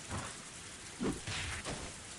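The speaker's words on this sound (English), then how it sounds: "Only the sound of rain filled this tense moment." Steady rain pours in a Higurashi When They Cry visual novel scene, a dense continuous hiss with a couple of brief louder swells, heard alone without any voices.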